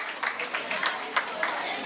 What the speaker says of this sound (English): Please give a round of applause for all these panelists.